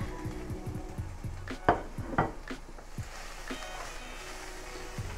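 Spaghetti squash is stirred into a pan of white cheddar cheese sauce with mushrooms and onions, with a utensil scraping and clacking against the pan in a series of uneven knocks over a low sizzle.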